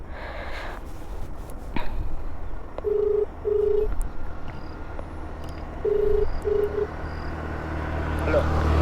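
A mobile phone call rings out after dialing, with two short pairs of ringback tones spaced a few seconds apart over steady background noise and faint rustling.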